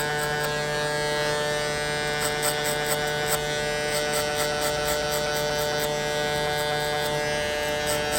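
Gamma Ergos hair clipper setting a shadow fade guideline, a steady close electric buzz with a strong constant hum, with faint intermittent contact clicks as it passes over hair.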